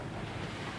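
Steady rushing wind and wash of waves aboard a sailboat making about 4.8 knots close-hauled off a Greek cape, a dense, constant roar with no pauses.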